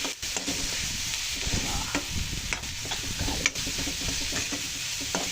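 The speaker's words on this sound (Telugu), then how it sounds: "ఇప్పుడు ఇందులో ఒక 1/2 స్పూను పసుపు, 2 టేబుల్ స్పూను సాల్ట్ వేసి బాగా కలపాలి" Greens with onions being stirred in a hot pan after turmeric and salt are added, a steady scraping and sizzling with frequent small knocks and clinks of the spoon against the pan throughout, close and continuous.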